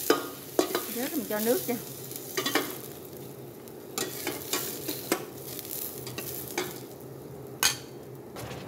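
Ingredients for durian soup stir-fry in a pan with a soft, continuous sizzle, punctuated by scraping utensil strokes against the pan; someone speaks briefly over the cooking.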